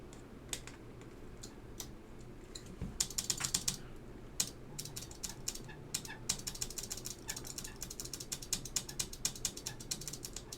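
Clicky Alps SKCM White switches on an old Jae J-02 keyboard with old keycaps being tested, scattered crisp key presses building into quick bursts of close, sharp clacking.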